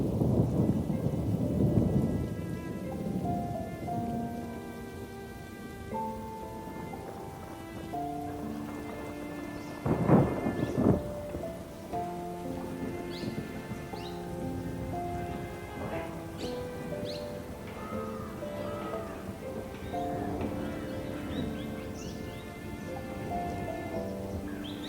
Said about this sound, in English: And when dark clouds gather and the rain begins to pour, Mandira becomes a living umbrella, covering